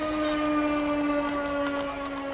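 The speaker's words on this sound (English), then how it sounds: "siren is the sound of a moment of silence in memory of all fallen veterans." A civil defense siren sounding for a veterans' moment of silence, a steady sustained wail heard from a distance with no talk over it.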